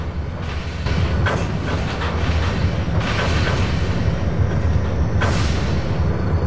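A heavy model train stuck on slippery rails gives off a continuous loud rumbling, grinding roar with a few sharper bangs and surges, no voices present.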